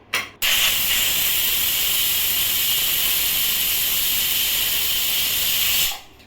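A pressure cooker lets out a loud, steady steam whistle while cooking chicken curry on a medium gas flame, a continuous hiss holding for about five seconds after a brief opening burst, then cutting off.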